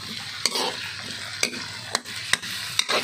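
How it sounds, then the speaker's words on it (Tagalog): Pork sautéing in a pan for menudo gives a steady close sizzle, broken by several sharp clacks of a utensil stirring against the pan at irregular intervals; no one speaks. "Diyan rin natin igigisa yung ating baboy"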